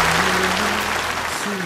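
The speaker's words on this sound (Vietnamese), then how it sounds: "Chúng ta hãy cùng dành thêm một tràng vỗ tay thật nồng nhiệt nữa để cảm ơn các nhạc sĩ" Audience applause at a Buddhist music concert, steady and dense throughout, with a faint sustained musical tone running beneath the clapping.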